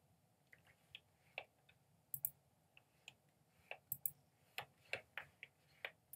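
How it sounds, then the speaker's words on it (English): Sharp, faint computer mouse clicks tick out one after another in an irregular sequence over a quiet background, heard while setting up controls in music software. "I'm clicking here."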